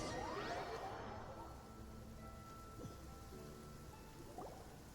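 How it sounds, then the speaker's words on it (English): Steady rain falls in the video game Genshin Impact, a continuous hiss of drops on surfaces, fuller at the start with a swishing sweep, then settling into an even patter. "It's been raining non-stop for a few days now."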